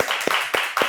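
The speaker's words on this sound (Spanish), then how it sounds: "equipo, un fuerte aplauso." Sparse handclaps from a small studio crew on a Spanish-language talk show, about four distinct, evenly spaced claps close to the microphone.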